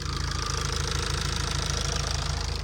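A Tata diesel engine running after its injectors were cleaned, a steady rhythmic knocking idle with even pulses, close and continuous with no talking.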